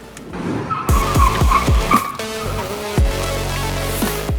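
A Honda Civic FK8 with 355 mm brake discs brakes hard from speed, its tires squealing and skidding loudly in repeated bursts that end in a long sustained screech, with an engine droning underneath.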